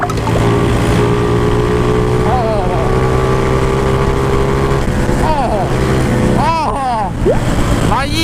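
A Honda Super Cub motorcycle engine drones steadily at speed during a speed run, holding a sustained note, while excited voices talk over it throughout.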